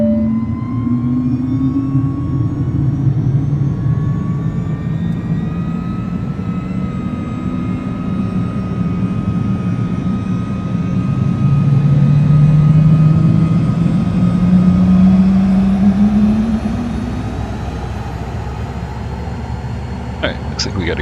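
In Microsoft Flight Simulator, a Cirrus Vision Jet's engine spools up from a start, a loud steady whine with rising tones and a rumbling swell in the middle, then settling.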